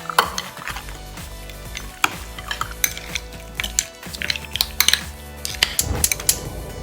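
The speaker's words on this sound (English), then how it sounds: "and your tamarind, and 1 teaspoon of turmeric. Let's mix well." Tamarind and turmeric are mixed into a mutton curry, with rapid metallic clinks and scrapes of a spoon against the pot over a low steady hum, close and busy, no voices.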